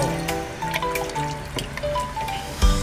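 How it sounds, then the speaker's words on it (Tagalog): Water is poured into a cooking pot for fish sinigang made with talakitok, a steady trickling, splashing stream close by with small bubbling and dripping accents throughout. "Tapos ay lagyan na ng tubig na naaayon sa gusto nyong kadaming sabaw."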